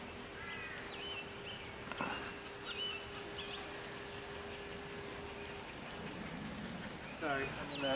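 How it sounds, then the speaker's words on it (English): A dog on a trail among the redwoods of Henry Cowell park makes faint, scattered sounds against quiet outdoor ambience, with soft voices and footsteps nearby. "Ooh, nice dog."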